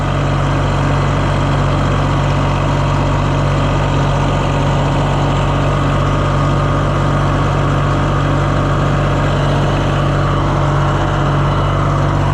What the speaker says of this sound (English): Maybe if I rev it up, it'll really get after it